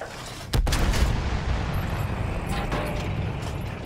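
Bomber's mounted guns firing in Battlefield 1, a loud sharp burst near the start followed by sustained heavy low rumbling gunfire and more bursts, close and dense throughout.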